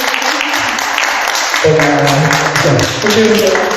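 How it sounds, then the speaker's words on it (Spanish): An audience applauds during a book presentation at a central library, continuous clapping mixed with a voice talking over it and a sustained tone in the second half. "aprovechamos de darle un aplauso y un agradecimiento"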